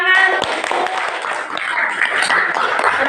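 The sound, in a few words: clapping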